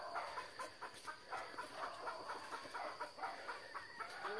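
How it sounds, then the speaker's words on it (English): Backyard chickens cluck in short, repeated bursts at a distance, faint against a quiet outdoor background. "Look at my chickens there."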